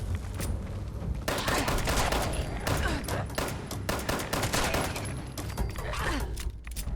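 Rapid bursts of gunfire in the game Fallout 76, loud and continuous volleys of shots overlapping one another for several seconds.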